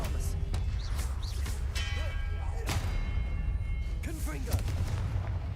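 Hogwarts Legacy's Expelliarmus disarming spell fires as several quick sharp cracks and thumps spread across a few seconds, set against a constant low rumble of game ambience.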